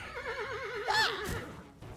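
A horse neighs loudly in a wavering, drawn-out whinny that rises to a sharp peak, set against a dark, ghostly backdrop in an animated fantasy scene from Sword Art Online Abridged.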